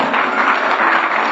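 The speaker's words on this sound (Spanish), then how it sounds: "Ese aplauso está muy flojo para Dios." A church congregation applauds during a sermon, a short, steady wash of dense clapping at even loudness throughout.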